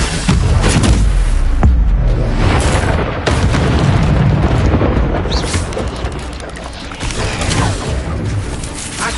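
The Incendio fire spell is cast during a fight with spiders in Hogwarts Legacy. Loud, booming fiery bursts and rumbling impacts follow one another closely over a dense, continuous wash of game noise.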